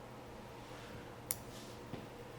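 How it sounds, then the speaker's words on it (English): Scissors snip fly-tying fibers on an articulated rainbow streamer fly, two quick quiet cuts a little over half a second apart against a faint, near-silent background. "Let's trim these out."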